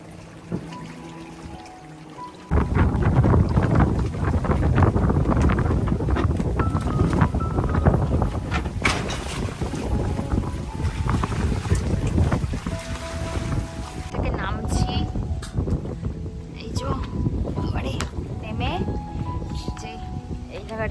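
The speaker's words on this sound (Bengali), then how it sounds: "প্রচন্ড দুলছে বোটটা" Boat rocking on the water at Maithon Dam, a steady roar of wind and sloshing water that starts abruptly and persists, with people talking over it.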